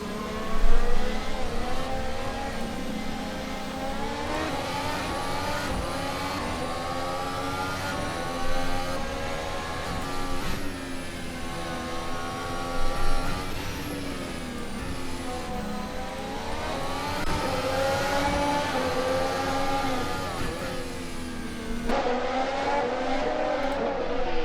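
Renault and other race cars in a racing game at the Nurburgring, engines droning and revving continuously as the pack battles through the midfield, loud and steady with shifting pitch throughout.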